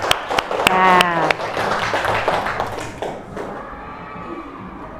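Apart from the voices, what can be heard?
audience applause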